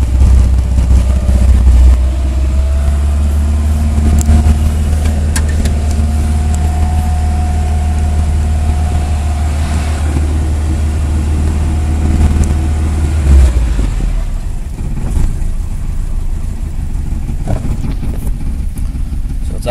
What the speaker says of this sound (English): idling rough, as you can see it jumping,